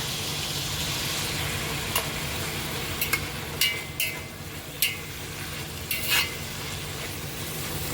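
Vegetables and tomato frying in a pan for vegetable avalakki, with a steady sizzle under it and several sharp clinks and scrapes of a spoon stirring against the pan.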